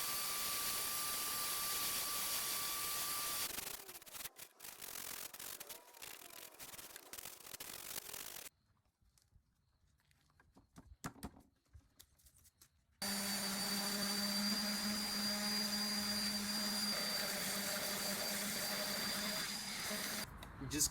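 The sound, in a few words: sanding wooden furniture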